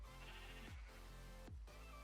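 A sheep in Minecraft bleats in short repeated calls, a steady low wavering bleat broken by two brief dips, close and clear with no talking.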